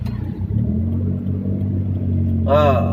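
A car engine hums and rises in a low, steady rumble as the driver feeds gas at half clutch on a road, close and continuous, with a voice speaking briefly near the end.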